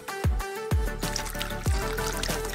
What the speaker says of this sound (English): Once it's mixed, pour it into tilted glasses.